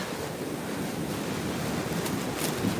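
Pacific Ocean surf at Newport Beach, a steady broadband wash of breaking waves with some wind rumble, continuous and moderately loud with no voices.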